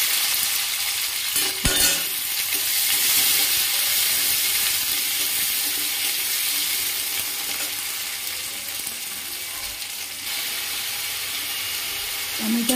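Tomato and bay leaf frying in oil for a bottle gourd kofta curry, with a steady, close, bright sizzle throughout, a sharp clink of a utensil early on, and occasional soft stirring.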